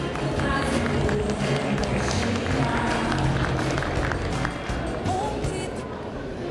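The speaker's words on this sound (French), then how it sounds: "Je vais vous demander d'applaudir la candidate numéro 9, Maëva Saligna." Sustained applause from a pageant audience at the Miss Beaujolais 2011 election, welcoming candidate number 9; dense, steady clapping and crowd noise fill the whole stretch at an even level, easing slightly near the end.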